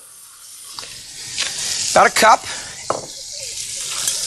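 Warm water is poured into saffron in a kitchen while making paella stock, giving a short splashing pour in the middle with a brief trickle afterward, under a person talking.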